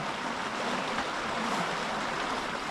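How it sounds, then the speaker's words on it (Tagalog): A strong river current rushes steadily as a dense, even roar, close and unbroken for the whole stretch, with no voices over it. "Kalakas ang agos."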